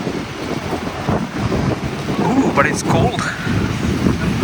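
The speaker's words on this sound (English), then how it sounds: "not a lot of rain, but it's mostly windy" Strong wind from Typhoon Doksuri in Taiwan buffets the microphone in a constant rough roar, with gusts swelling and easing. A person speaks briefly over it.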